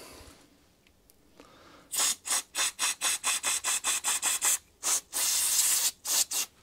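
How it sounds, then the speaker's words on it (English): Wire wool scrubbing a lawn mower part in quick, rhythmic bursts of harsh rasping strokes, close and fairly loud after a quiet start, with a longer continuous scrub near the end. "Good old fashioned cleanup. Get the old wire wool again."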